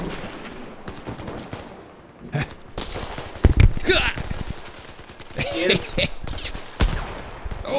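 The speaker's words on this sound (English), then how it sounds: "Oh, that was a good nade." A grenade blast and bursts of gunfire in the VR shooter Zero Caliber, sharp impacts and rattling shots spread unevenly across the clip, mid-level and fairly close, with background game noise between them.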